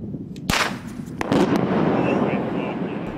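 Explosive blasting of a mountainside for a highway relocation on U.S. 36 near Lyons, heard as a sharp distant blast followed by a sustained rumble of loosened rock.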